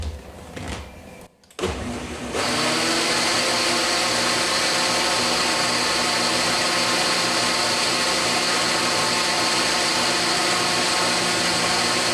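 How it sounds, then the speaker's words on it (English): A loud blender blending macadamia nut horchata whirs steadily after a brief start-up, its motor holding a constant high-pitched drone. "And I've just blended it until it looks"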